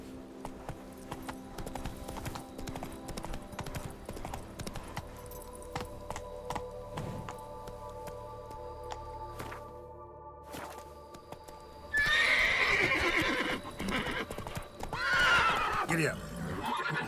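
Horse hooves clip-clop steadily in The Witcher 3, with a sharp neigh and whinny near the end; a voice calls out over the riding.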